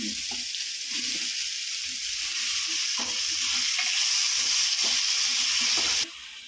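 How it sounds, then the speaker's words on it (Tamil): Onion, tomato, ginger and garlic sizzle steadily while sautéing in a pan for mushroom thokku, with occasional stirring scrapes over a continuous frying hiss that drops slightly at the end. "வெங்காயம் தக்காளி வதங்கிச்சு இஞ்சி பூண்டும் போட்டு அதுவும் வதங்கிச்சு"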